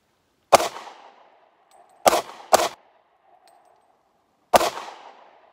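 A Kahr P40 pistol fires four sharp shots at irregular intervals, two of them close together, each followed by a short ringing decay, with no talking in between.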